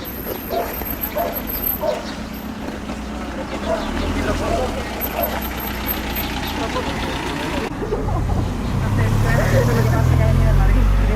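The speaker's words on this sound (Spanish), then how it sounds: "Cuidado, que viene un coche." A car approaches along a street in Roquetas de Mar, its engine rumble building and growing louder toward the end while people talk nearby.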